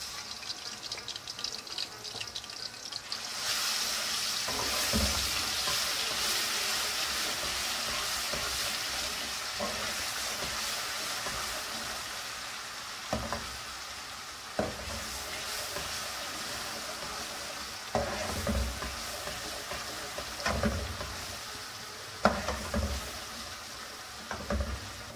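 Garlic paste fries in oil in a pan, giving a steady close sizzle. A spoon stirs it, making occasional scrapes and knocks against the metal. The hiss grows brighter after the first few seconds, and nobody talks.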